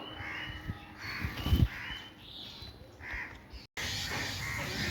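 Crows caw repeatedly in a garden in Newtown, Kolkata, the calls moderately loud against outdoor background noise and rustling, with no talk.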